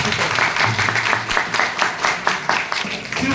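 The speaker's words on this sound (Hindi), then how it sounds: "तालियां और ज्यादा बजा सकते हैं" An indoor audience at a business plan presentation applauds steadily, a dense wash of many hands clapping at close range for several seconds, with faint voices underneath.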